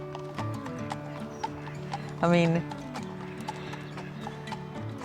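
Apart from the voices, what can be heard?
horse hooves clip-clopping on high street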